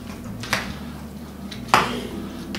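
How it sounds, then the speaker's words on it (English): A spoon stirs tomato and pineapple salsa in a container, giving two distinct clinks a second apart over a quiet, low background hum. "you can give this a little stir"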